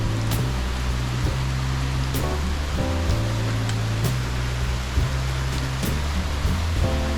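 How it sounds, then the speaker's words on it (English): Steady rain falls during a slate roof repair, heard from indoors as a constant broad hiss with a low, stepping hum beneath it. "it's raining pretty good now."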